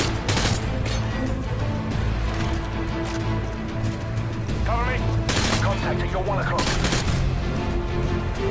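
Dense gunfire from a Call of Duty: Modern Warfare 2 veteran campaign battle, rapid bursts and single shots crackling nearly nonstop at close range while voices call out over the shooting.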